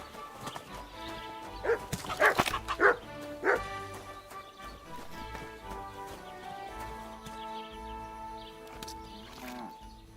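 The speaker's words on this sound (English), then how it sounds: "Why are you barking?" A dog in Kingdom Come Deliverance 2 barks several times in a cluster of loud, close yaps around the middle, followed by softer whimpers, with horse hooves clip-clopping and faint background activity.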